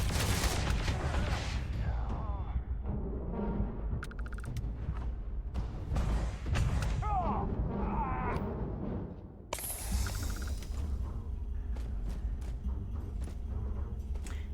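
Gunfire in the space game Starfield comes in sharp bursts and scattered single shots amid game effects and creaking mechanisms, loud and close throughout.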